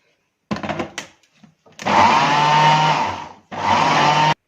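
A blender whirs loudly through milk, sugar, cocoa and oil in two bursts, a long steady run followed by a short pause and a second shorter run, preceded by a few brief clatters.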